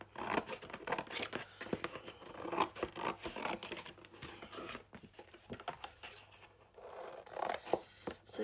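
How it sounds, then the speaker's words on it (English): Scissors cut through pizza-box cardboard, a run of close crunching snips and scraping strokes that continue steadily across the stretch, close by and with no talking. "now I just need to cut this one up to get the other cover"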